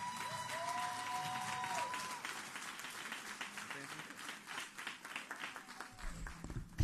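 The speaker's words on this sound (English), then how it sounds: "please give a round of applause to Ms." Audience at an oratorical contest event applauding the evening's coordinator, a soft, distant patter of clapping with some talk and a brief tonal sound mixed in early on.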